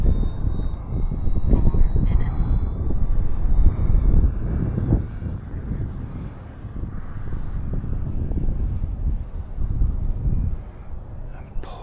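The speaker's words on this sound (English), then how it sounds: "Poor little foam board plane." A small Flite Test Mini Baron foam board RC plane drones overhead in gusty wind, its motor whine rising and falling under heavy wind buffeting on the microphone.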